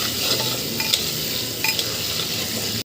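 Prawns fry in oil in a pan with a steady, close sizzle and repeated stirring scrapes of a utensil against the pan.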